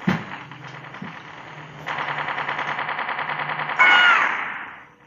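Video game gunfire from the mobile shooter Mini Militia, heard as a sharp shot followed by long, fast, evenly spaced machine-gun bursts with echo, ending in a louder final burst that fades out.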